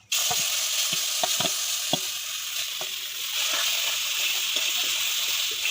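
Grated raw mango poured into a little hot oil in a wok, a loud steady sizzle and bubbling frying hiss with a few scraping stirs, no voices.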